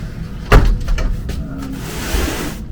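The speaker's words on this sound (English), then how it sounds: "So, two sliding doors," Sliding bathroom doors in a 2022 Jayco Pinnacle 36FBTS RV, cedar-lined, rolled open with a sharp knock at the start, then a rumbling glide and soft clunks as they settle, close and fairly loud.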